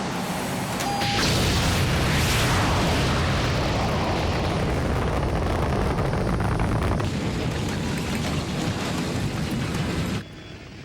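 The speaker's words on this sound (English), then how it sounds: "Separation successful, firing booster rockets." Rocket booster engines ignite in a science-fiction film sound effect, a loud, sustained roar that swells and holds steady for about ten seconds before it cuts off abruptly.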